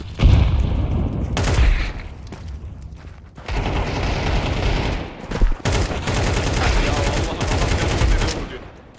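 Rapid AK rifle gunfire in a first-person shooter video game, loud dense bursts of shots with short pauses between volleys and a few booming impacts, sustained across the whole stretch.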